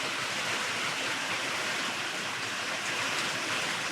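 Heavy rain pours down steadily in a dense, even hiss that fills the whole four seconds, loud and unbroken, with no voices over it.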